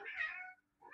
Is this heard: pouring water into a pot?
no